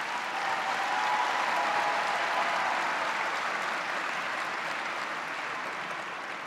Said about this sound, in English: give yourselves a round of applause for your hard work and dedication towards this accomplishment